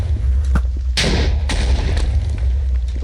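A huge TNT-times-500 blast in modded Minecraft: a sudden, loud, booming burst with a thick low-end rumble and crackling debris that keeps rolling on for seconds. Smaller thuds come before it and follow it.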